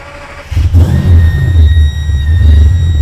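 A V12 engine in a Foxbody Mustang cranks and fires up, then revs loudly and repeatedly with a deep, aggressive roar, close by and with no voices.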